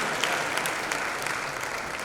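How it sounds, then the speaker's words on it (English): Steady audience applause fills an awards ceremony hall, dense even clapping throughout at moderate level. "Thank you for the applause."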